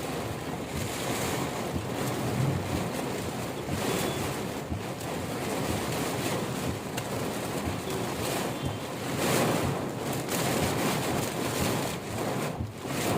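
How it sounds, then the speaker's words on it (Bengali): Heavy rain with gusty stormy wind, a loud continuous roaring wash that surges and swells in waves, close and dense for the whole stretch, with no talk. "এত বৃষ্টি, প্রচন্ড বৃষ্টি, প্রচন্ড বৃষ্টি, আর দমকা হাওয়া।"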